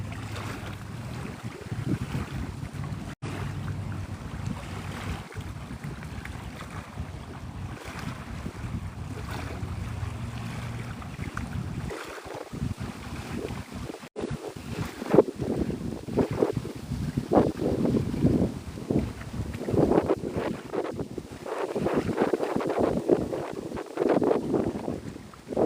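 Water of Santa Rosa Sound at Navarre laps and splashes close by under steady wind noise buffeting the microphone, growing busier and louder in the second half.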